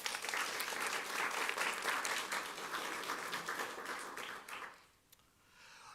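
Dense applause from a crowd at a school board meeting, steady and loud for several seconds, then tapering off quickly into near silence.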